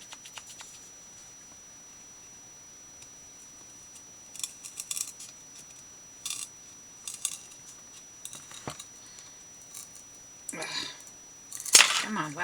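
Small scissors snipping through miniature Christmas craft material, a few short crisp cuts scattered among quiet handling noises, close and fairly faint, with a louder rustle near the end.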